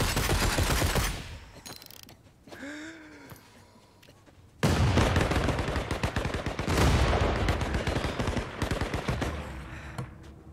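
Bursts of rapid video-game gunfire, loud and dense, break off into a quieter stretch with a brief tonal sound, then come back in heavy sustained volleys.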